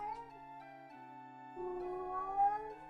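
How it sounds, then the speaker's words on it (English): A pet cat meows insistently in a room, a few close drawn-out cries over a steady indoor hum while he plays with sponges. "I have a mewy cat."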